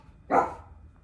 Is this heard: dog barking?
yes